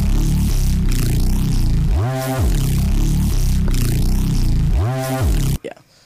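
Dirty neurofunk reese bass plays loud and alone, its low-pass filter cutoff sweeping open and shut in repeating rising and falling waves over a steady throbbing low end, then cutting off abruptly near the end.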